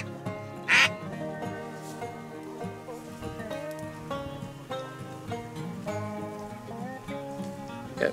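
Mallard ducks quack steadily in a marsh duck-hunting setting in California, a continuous layered chorus of nasal calls at moderate distance, with one louder call near the start and faint voices in the background.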